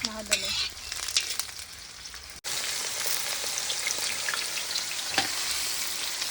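Beans fry in a pan, an even hissing sizzle like steady rain that continues throughout after a few quieter scrapes and taps at the start, close and moderately loud, with no speech.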